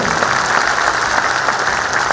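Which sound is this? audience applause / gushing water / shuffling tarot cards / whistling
audience applause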